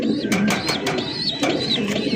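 A pair of fancy racer pigeons cooing close up, with repeated soft throaty coos in quick succession over steady background noise.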